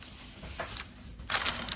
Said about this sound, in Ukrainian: Зараз ми їх в пакет, пудру і гарненько-гарненько обтрусимо.